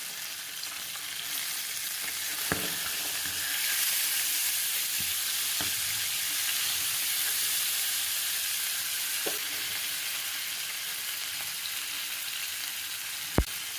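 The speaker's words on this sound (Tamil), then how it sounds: "மீன் எப்போவுமே மீடியம் ஃப்ளேமில் வச்சு ஃப்ரை பண்ணுங்கள்." Fish coated in masala fries in oil over a medium flame, giving a steady, bright sizzle with a few sharp clicks and taps from a utensil against the pan.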